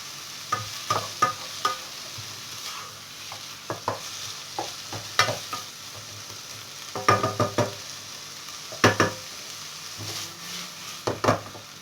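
Chicken pieces and small chopped onion and vegetables brown in a pan for a filling, heard as a soft sizzle beneath repeated close scrapes and clinks of a spoon stirring at irregular intervals, with no talking.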